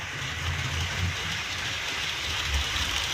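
A Roco model train running on a home layout: a faint, steady rolling rumble with soft wheel clatter and a couple of low thumps, no voices.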